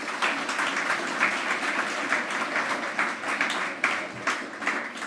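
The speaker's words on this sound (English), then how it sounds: "Shall we give our MEC a very good round of applause?" A crowd gives a hearty round of applause to the provincial MEC at the launch of the 2024 school governing body elections, with full, continuous clapping that swells slightly toward the end.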